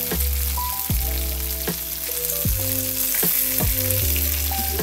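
Steak fries in a pan on a stovetop turned down from high heat, with a steady close sizzle running throughout and a faint repeating tonal hum beneath it.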